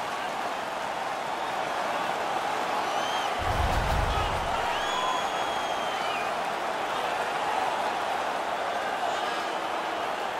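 A crowd roars steadily in an NHL 18 arena during a Colorado Avalanche versus Vegas Golden Knights game, with a broad sustained wash of cheering, a low thump partway through and brief whistle-like tones above.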